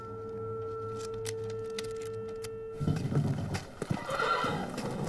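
A mare whinnies and neighs close by, with hooves clip-clopping, after a steady tonal hum fades out partway through.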